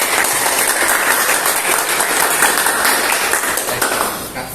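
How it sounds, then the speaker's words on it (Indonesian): A classroom audience applauds a student group after its presentation in an Islamic studies lesson, steady dense clapping from many hands filling the room throughout, tapering slightly at the end. "Kita kasih aplaus untuk kelompok 2."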